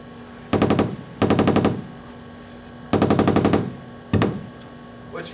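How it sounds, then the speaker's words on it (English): An Atari Pokey sound chip playing its noise waveform gives bursts of rapid, harsh clicking blips in four loud clusters with quiet gaps between them, like a stuttering buzz, heard alone. "But for the noise waveforms it becomes just these random blip sequences."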